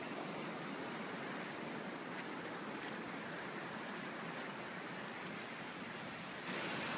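A trout river flows in a steady, continuous rush of water that stays even throughout, with no voices.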